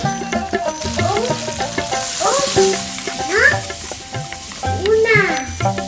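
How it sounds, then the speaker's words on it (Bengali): Chopped onion with garlic and chillies frying in a pan for khichuri, stirred steadily: loud, close sizzling with repeated scraping strokes across six seconds, with tonal background sound throughout. "আমার পেঁয়াজ ভাজা হয়ে গেছে"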